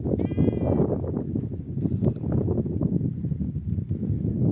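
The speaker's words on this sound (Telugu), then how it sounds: "ఈ పక్క ఏంటంటే గొర్రెలు మేస్తూ ఉన్నాయి" Sheep grazing beside a large lake: a single clear bleat rises near the start over a dense, continuous low shuffle and rumble of the flock, close and steady throughout.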